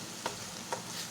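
Potato and pea masala frying in a pan makes a faint, steady sizzle. Two soft scraping strokes of stirring are heard close together.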